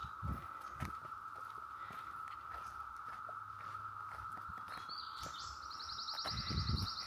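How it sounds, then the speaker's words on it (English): Birds singing in woodland along a Red River Gorge hiking trail, faint scattered chirps and a brief trilling call over a steady insect drone, with soft footsteps nearby. "The birds are sounding beautiful today."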